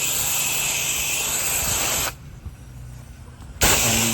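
A pressurized soft wash sprayer hisses steadily while spraying house wash mix, loud and close, cutting off for about a second and a half before the broad hissing spray resumes.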